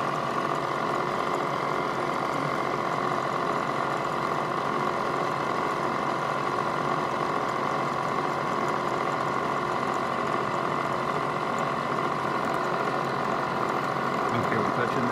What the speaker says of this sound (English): now we'll take the 1/8 inch end mill with the dimple in the middle, go in 20 thousandths